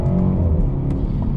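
The engine of a BMW 330i drones steadily from inside the car while it drives, a loud, even low hum with little change in pitch.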